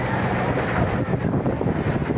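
Strong wind roars steadily and loudly across an open mic, a dense broadband rush with gusty swells, blowing through a burning residential area of closely built homes in Barangay Santa Ana, Taguig City during a second-alarm fire.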